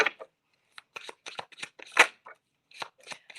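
Tarot deck shuffled close up in short bursts of crisp riffling and card slaps, with brief pauses between them and a louder flurry midway.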